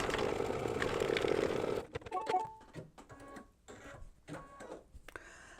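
An embroidery machine stitches a tack-down line on a mug rug: a steady rapid mechanical whir for about two seconds, then scattered clicks and light handling noises.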